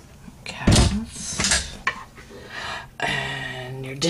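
Cabinet doors aboard a 2012 Regal 42 Sport Coupe boat open with a couple of close, sharp wooden knocks and clatters, followed by a short, steady rumbling stretch in a quiet interior.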